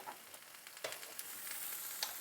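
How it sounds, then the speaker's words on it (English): Greens frying in butter in a pan, stirred partway through: a steady soft sizzle with a few brief scrapes and clicks of the utensil, close by and without talk. "Give these greens another stir."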